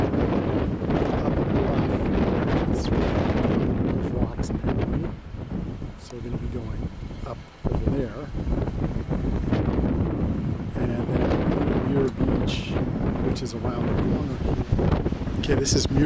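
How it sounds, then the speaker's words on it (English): Strong, gusty wind buffets the microphone at a beach overlook along Highway 1 in Marin, roaring loudly and continuously with a few brief lulls, while a person talks underneath. "It's quite blowy, so it'll probably be hard to hear this"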